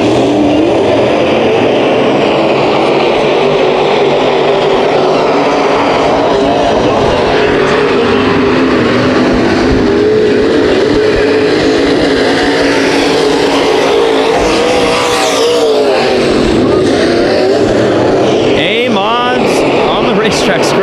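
Hobby stock race cars roaring around a racetrack during a race, a continuous loud wash of engine noise with passing surges, heard under a race announcer's commentary throughout.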